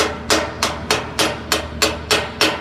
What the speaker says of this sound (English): tap on the metal until our slag just breaks off